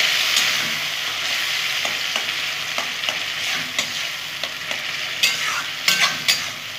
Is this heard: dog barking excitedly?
no